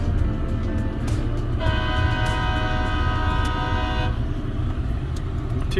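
A freight train's horn sounds one long sustained blast at a railroad crossing, heard from inside a waiting pickup truck over a steady engine rumble.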